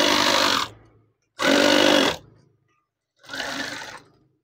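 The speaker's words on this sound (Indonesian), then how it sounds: "Kemudian jahit saja." Sewing machine stitching curtain fabric for a gathered center tie: three loud, near bursts of rapid whirring stitching separated by brief pauses, the last burst softer, with no talk.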